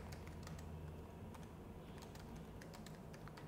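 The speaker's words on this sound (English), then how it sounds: "That's a click to add notes and you can start typing here." Quiet keystrokes tapping out on a computer keyboard, a run of light clicks at an uneven pace over a low steady hum.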